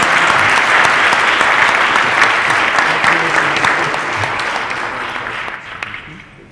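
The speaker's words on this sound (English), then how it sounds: "Let's have a big round of applause for our Ward 1 Council candidates." An audience at a candidate forum applauds the Ward 1 council candidates, a dense, sustained round of clapping from a crowd that holds steady, then thins and fades out over several seconds.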